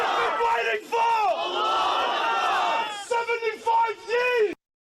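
A crowd of people cheers and chants loudly in unison, sustained yelling voices rising and falling in bursts, close and dominant before stopping suddenly.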